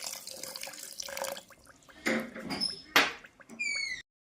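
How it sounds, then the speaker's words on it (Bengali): Water saved from boiling mangoes is poured from a container into an ice-cream mixture, giving faint intermittent splashing and trickling pours in a quiet kitchen. "আম সিদ্ধ করার সময় যে জলটা ছিল সেই জলটা এখানে অ্যাড করছি।"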